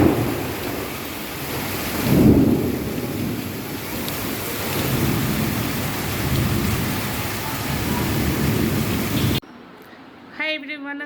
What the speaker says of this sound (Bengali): এই গরমে এত রাতে বৃষ্টি পড়া আরম্ভ হয়ে গিয়েছে